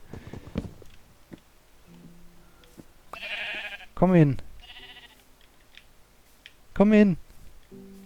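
Two loud sheep bleats ring out a few seconds apart, close by, between quieter clicks and a person calling out briefly.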